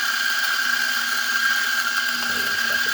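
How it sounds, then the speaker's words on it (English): A Mazzer Mini E coffee grinder runs on its finest setting, grinding beans with a steady, loud mechanical whir and a high whine that holds without a break, heard alone and close. "Grinding just so the beans don't fly out because we weren't really given a hopper"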